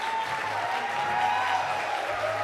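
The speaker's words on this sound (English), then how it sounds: "Give him a hard applause." An audience at a competition finals applauds a winner, a steady wash of many hands clapping at moderate loudness. A low electrical hum runs underneath.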